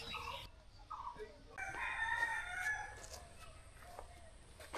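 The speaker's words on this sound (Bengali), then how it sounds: "আর এত পাখির ডাক মানে ভাবা যাচ্ছে না," A rooster crows loudly and near beside other birds calling on a cool morning in open countryside in the Dooars, with the crow rising and stretching out over several seconds.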